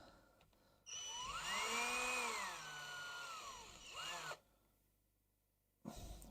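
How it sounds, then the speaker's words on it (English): A power tool whirs during the build of a Tamiya TT-02 Porsche 911 RC car kit: one loud, sustained burst that rises and falls in pitch, a shorter second burst, a pause, then a brief restart. "Now I'm using a power tool again."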